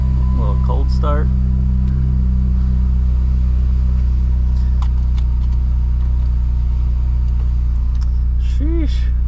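A Dodge SRT-4 engine idles after a cold start with a deep, steady low rumble throughout while a person speaks briefly over it.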